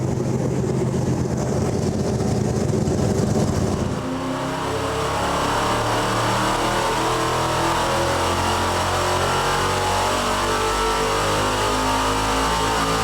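A Ford 390 FE V8 engine roars steadily under heavy load on a dynamometer, its pitch climbing in a sustained pull that lasts the whole stretch, with a rougher lower drone at the start.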